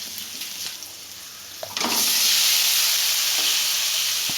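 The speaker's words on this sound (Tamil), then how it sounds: "சேர்த்துட்டு இந்த வேக வச்ச கிழங்கையும் இதோடு சேர்த்து நல்லா வதக்கிக்கலாம்." Boiled tapioca (kappa kizhangu) sautéed in oil with a pinch of asafoetida: a quiet low stir, then a sudden loud steady hiss as the tuber hits the pan and keeps sizzling.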